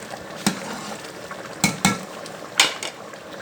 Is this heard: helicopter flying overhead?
no